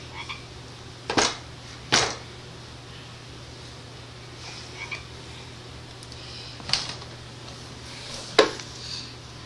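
Frogs croak in loud, short rasping bursts, a handful of separate calls spaced irregularly over a steady low background hum, fairly close.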